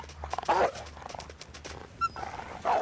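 Wolf in the survival video game The Long Dark, giving short growling, barking bursts at close range over a low ambient hum, with a small chime-like game cue midway.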